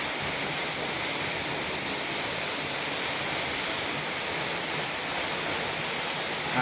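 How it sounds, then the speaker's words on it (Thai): Waterfall inside a cave temple, a constant broadband rush of falling water, steady and fairly loud with no pauses and no voices. "นั้นน้ำตก"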